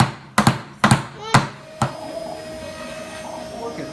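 A hammer strikes nails into a homemade wooden pencil box, four sharp, evenly spaced close blows within two seconds, followed by a quieter lingering hum.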